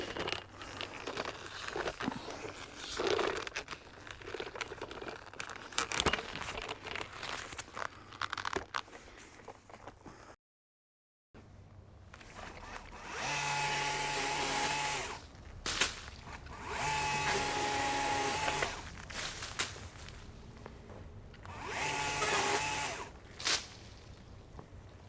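A Stihl HTA 85 battery pole hedge trimmer chews through an overgrown hedge in long buzzing, crackling bursts of cutting and snapping twigs, broken by a brief silence and short pauses, no speech.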